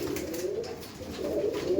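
Imported Giribaj pigeons coo in soft, repeated low calls, close and steady, with no voices present.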